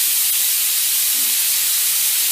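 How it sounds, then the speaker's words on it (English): Food frying in a hot pan, a steady, loud, even hiss of sizzling that holds unbroken throughout without any voices. "Got my pan heating up, so I'm just going to throw those on there"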